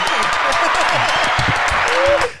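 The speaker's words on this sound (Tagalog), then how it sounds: "Palakpak, palakpak, palakpak." A group of people clap steadily through the whole moment, a dense, continuous patter at close range, with voices chatting over it during a casual podcast recording.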